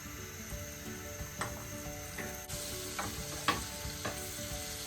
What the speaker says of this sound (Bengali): তাওয়ার মধ্যে বাটার দিতে হবে, বাটারটা মেল্ট হবে